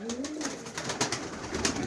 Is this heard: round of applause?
no